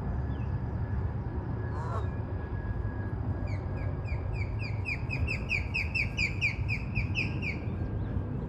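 Birds chirp and call repeatedly in a rapid, busy chorus over steady outdoor background noise near a waterside spot with ducks below and an eagle overhead; no one speaks.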